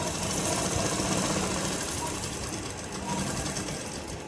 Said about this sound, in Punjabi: ਮੈਂ ਲਗਾ ਰਹੀ ਹਾਂ ਜੀ ਸਿਲਾਈ